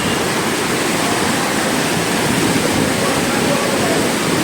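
Fast floodwater rushes across a road in Junagadh during heavy rain, a loud, steady, broadband roar that holds unbroken throughout, close and dense like a waterfall.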